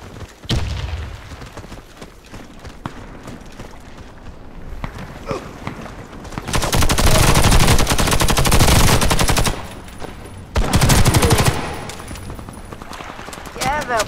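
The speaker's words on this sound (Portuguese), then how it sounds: "O próprio amigo me atirando aqui" Automatic and single-shot gunfire from the online shooter Warface, with two loud sustained bursts of rapid fire standing out over quieter intermittent shots and game noise, while a player talks over the action.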